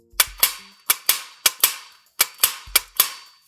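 Crank-wound video game gun dry firing, sharp mechanical snaps arriving in quick pairs and short bursts, each crack ringing out briefly against silence.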